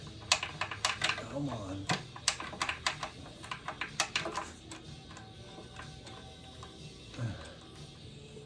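A socket ratchet clicks in quick irregular bursts as it turns an oil pan bolt on a Jeep Wrangler during restoration work, close and moderately loud, with someone briefly speaking and grunting in between.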